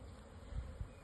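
Honey bees buzzing as a package colony is installed into a hive in spring, a soft steady hum of many insects with two brief low thumps.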